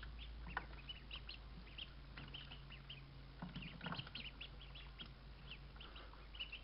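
Faint, soft peeping and quiet quacks from small ducklings over a steady low hum, scattered and close.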